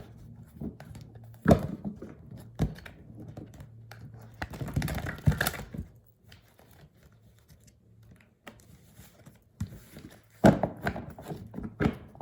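Tarot cards are shuffled by hand in bursts of crisp, rapid riffling and tapping, with several separate flurries between quiet pauses, close to the microphone and fairly soft.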